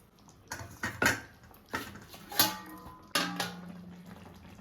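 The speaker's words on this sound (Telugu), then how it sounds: "ఇప్పుడు మరొక 5 నిమిషాల సేపు మూత పెట్టేస్తున్నాను." A lid set onto a pot of cooking tomato chutney in a home kitchen, giving several sharp metallic clanks and clatters spread over a few seconds, close up, with no talking.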